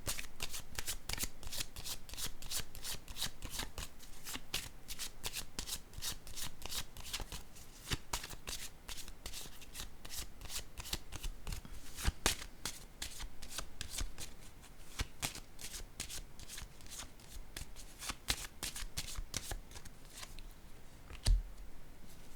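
Playing cards are shuffled again and again in quick riffling bursts, close and fairly quiet, with a sharper tap near the end as a card is set down.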